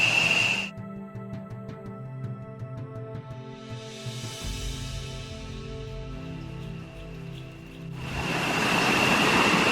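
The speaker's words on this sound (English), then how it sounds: "Nothing like a private little waterfall." Small waterfall near Uvita, Costa Rica, rushing as a steady broadband roar that swells and fades, with brief louder stretches at the start and end.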